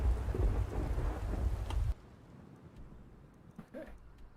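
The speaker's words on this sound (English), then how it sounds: "it's like actually raining" Heavy rain with a deep thunder rumble in the video game Skyrim that cuts off abruptly, leaving quieter patter and a few faint distant noises.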